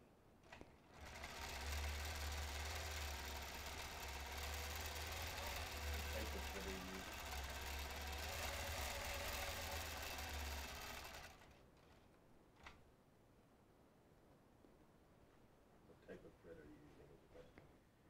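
A quilting sewing machine stitches through a quilt in a steady, loud whirring run for about ten seconds, then stops. Faint clicks and a few softer mechanical sounds follow, and a person talks quietly throughout.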